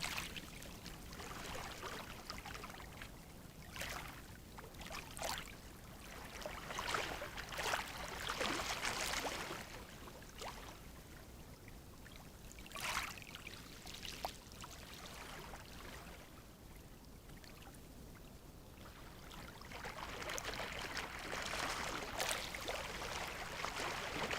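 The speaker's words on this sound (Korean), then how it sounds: "편안하고 부드러운 파도 소리에 집중해 봅니다." Gentle ocean waves wash softly onto a shore, faint surges rising and receding in slow irregular swells, with a quiet hiss of foam between them and no voices.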